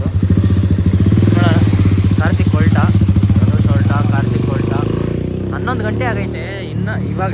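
A Yamaha RX100 motorcycle engine runs steadily close by with a rapid two-stroke throb, while people talk over it throughout.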